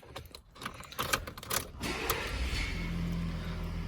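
A 2018 Ford F-150 XLT with the 3.0 Powerstroke diesel cranks and fires, preceded by clicks and rattles, then settles into a steady low idle that carries on close by.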